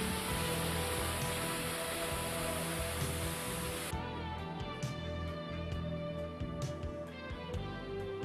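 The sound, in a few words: automatic water mist nozzle spraying to extinguish a burning foam mattress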